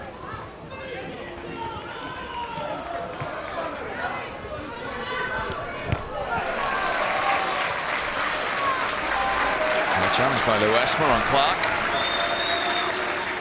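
Football stadium crowd at Barnet versus Wrexham, a broad continuous roar of spectators that swells louder midway and stays high, with a commentator talking over it throughout.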